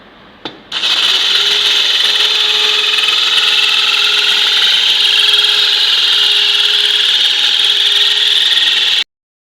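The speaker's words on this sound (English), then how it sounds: "Second hole is going to be drilled for this one." A drill bores a hole in an aquarium lid: a short knock, then a steady, loud high-pitched whine that holds for about eight seconds and cuts off sharply.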